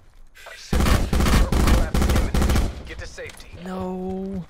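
Burst-fire gun shooting in Call of Duty Blackout, four loud rapid bursts in quick succession, followed by quieter game sounds and a rising tonal effect at the end.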